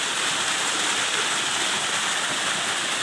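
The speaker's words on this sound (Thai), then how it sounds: "นี่น้ำตกเนี่ยครับนี่น้ำตก น้ำตกครับนี่ นี่ไหลมาจากเทือเขา" Waterfall tumbling over rocks, coming down from the hills, a loud, steady broadband roar of rushing water close by, with no voices.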